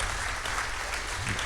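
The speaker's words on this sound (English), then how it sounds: "we're gonna give him a round of applause because I think he did a great job" A room of guests applauds steadily for a portrait painter at the unveiling of former Illinois Governor Rauner's portrait in the Hall of Governors, with dense, even clapping throughout and no pauses.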